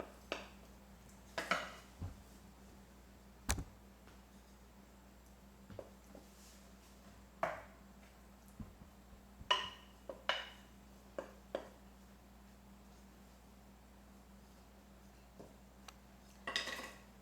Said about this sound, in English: we're going to turn the dough out onto the work surface, out of the bowl